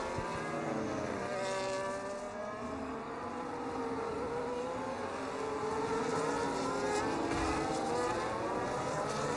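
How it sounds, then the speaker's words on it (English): Race cars driving around the Baku street circuit in a simulated tier-three race, a continuous engine drone with rising and falling whine as cars pass, steady and fairly loud with no talk. "See the cars almost just tiptoeing around the track now."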